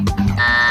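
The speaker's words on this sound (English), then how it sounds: "That is the buzzer." A quiz show buzzer sounds during a high school quiz show final, a loud sustained electronic tone that cuts in after a short burst of speech and holds steadily to the end.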